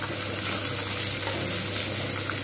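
Teasle gourd (kakrol) frying in hot oil gives a steady, dense sizzle that holds evenly throughout, with no voices over it.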